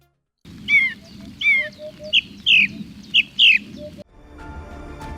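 A Eurasian hoopoe calls outdoors in Spain in a short series of chirping, tweeting phrases, fairly close, then the calls stop and only background noise remains.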